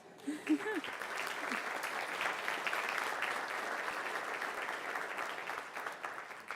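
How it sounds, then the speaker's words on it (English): An audience at an award ceremony gives Eugenia, a state teacher of the year, a round of applause, steady clapping that swells and holds across the room, with a few voices at the start. "Eugenia, stand up so we can give you a round of applause"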